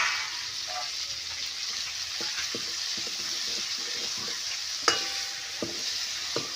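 Potatoes and brinjal fry in oil in a kadhai, producing a steady close sizzle with scattered light clicks of stirring against the pan.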